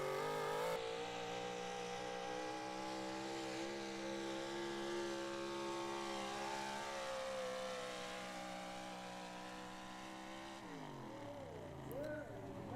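A 1969 Ford pulling truck roars through a pass at a truck and tractor pull at the Cookport Clash, a sustained, loud engine drone with rising harmonics that drops off near the end, with crowd and announcer murmur underneath.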